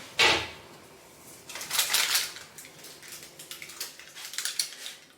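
An almond cake with pudding cream goes into an oven preheated to 175 degrees: one sharp thunk of the door shutting, then a quieter stretch of light metallic clatter and handling noises close by.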